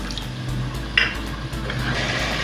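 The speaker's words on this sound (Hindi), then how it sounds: "थोड़ा सा हम इसमें पानी भी ऐड कर देंगे ताकि मसाले जले नहीं।" Water being added to ground garam masala roasting in a pan for a gram-flour khandvi curry gives a steady loud sizzle and bubbling hiss, with a brief splash or clink partway through and no speech.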